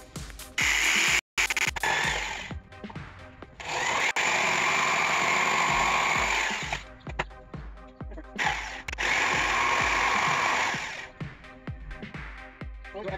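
A reciprocating saw cuts in two long, loud, continuous buzzing bursts. Brief clicks and handling noises fall between the bursts, and there is no talk.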